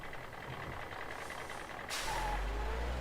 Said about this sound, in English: And Two-Face's truck no less